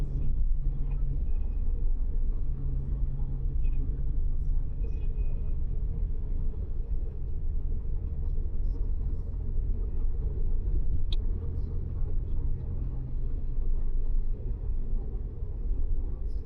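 Car driving on a highway near Bambu Apus before Lebaran, a steady loud low road rumble heard from inside, continuous throughout with faint higher noises and no clear talk.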